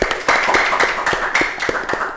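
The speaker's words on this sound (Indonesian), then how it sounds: "Wah, jadi tepuk tangan dong." A small group of people clap in a quick, loose rhythm of sharp, close hand claps, with no speech over them.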